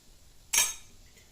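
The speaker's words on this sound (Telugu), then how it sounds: "ఈ పొడి వేసి జస్ట్ ఒక టూ సెకండ్స్ కలిపేసేసి" A spoon stirs ground curry leaf powder into fried seasoning in a pan, giving one short, close metallic scrape and clink against a quiet background, with no talking.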